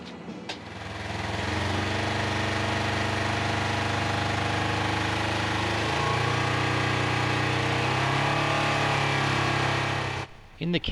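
A Polaris General XP UTV engine idles loudly and continuously through an HMF dual quiet loop exhaust, its low steady drone shifting pitch slightly partway through before cutting off near the end.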